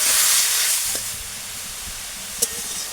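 Kohlrabi stirred and fried in a pan, giving a steady close hiss and sizzle that eases slightly, with one brief clink near the end.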